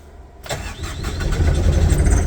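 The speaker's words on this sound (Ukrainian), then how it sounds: "Швидко покажу, як все працює, запускаємо." A Toyota 52-8FDF30 diesel forklift engine cranks and fires close by, catching after a brief start and settling into a loud, rough, throbbing idle that grows steadily stronger, with no talk.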